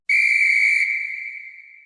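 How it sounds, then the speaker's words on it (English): A magic whistle is blown once, a single clear shrill tone that starts sharply, holds steady and slowly fades away, heard alone and close. "She blows the magic whistle,"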